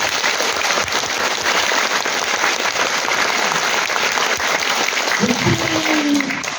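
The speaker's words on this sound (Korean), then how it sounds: "TV님, 뉴스타파 관계자 여러분에게 여러분 큰 박수 한번 보내주시면 감사합니다" A large audience gives sustained, loud applause at a film screening event, steady and unbroken throughout, with a brief voice rising near the end.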